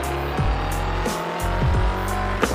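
Car braking in the FR Legends racing video game, with engine drone and squealing tires as the car slows, loud and continuous with no talk.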